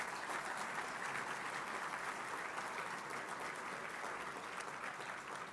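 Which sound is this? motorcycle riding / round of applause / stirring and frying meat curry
round of applause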